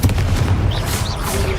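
A Confringo spell going off in a wizarding video game, a series of loud booming blasts with thumping low impacts and brief whooshing flickers above, close and forceful.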